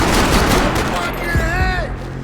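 Rapid gunfire from the PC shooter Max Payne 3, dense bursts of shots and booms filling the mix alongside a voice, loud and close throughout.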